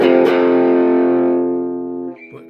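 Electric guitar through an EHX Hot Wax dual overdrive pedal: a single distorted chord, struck close and loud, rings out and decays over about two seconds before a faint string noise.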